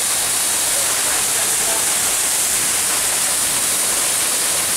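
Constant roaring rush of the Lakedang waterfall on Gunung Maras, loud and unbroken, filling the whole scene with dense white-noise-like water sound.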